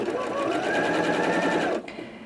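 Janome 230DC sewing machine sewing backwards in reverse, a steady close whirring run of stitches lasting under two seconds, then cutting off abruptly.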